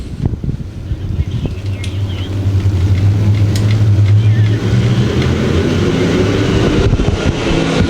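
Race car engines roar and build steadily at a green flag start during dirt track heat races at Thunder Hill, a loud sustained rumble with wind buffeting the microphone and an announcer talking over it.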